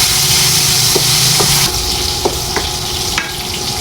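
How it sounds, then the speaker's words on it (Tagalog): Pork sautéing in a pan, heard as a steady loud sizzle with a few scattered clicks from stirring and the spatula scraping the metal. "Isa-gisahin lang natin yung pork hanggang sa nasa po ay mag-light brown"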